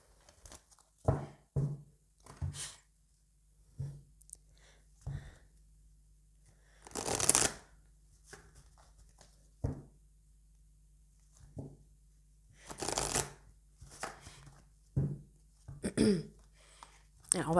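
Oracle des miroirs cards shuffled by hand up close, with irregular papery riffles and slaps spaced across the clip and a few louder flurries, no talking over them.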